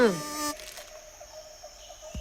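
A thin, steady insect-like buzz hums for a couple of seconds after a brief louder tonal sound at the start.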